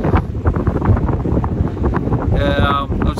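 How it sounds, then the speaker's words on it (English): Strong gusty wind buffets the microphone at a loch campsite in the hills, roaring and rumbling in uneven bursts with a brief voice near the end. "As you can probably hear, wind."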